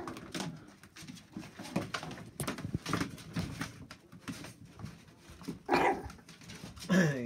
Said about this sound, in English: You're barking at the camera?